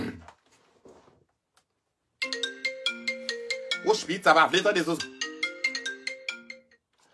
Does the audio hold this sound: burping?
no